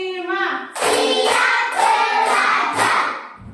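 A classroom of students claps together on a counted cue, a series of sharp group claps in steady rhythm after a brief voice at the start, fairly loud and close.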